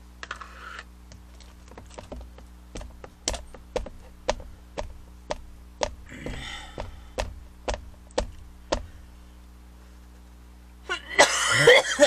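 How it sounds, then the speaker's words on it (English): A few dry coughs and throat clearing from someone making a stamped Easter card, heard alone over steady clicking taps and a low hum, with a louder burst of rustling at the end. "I just got a cough."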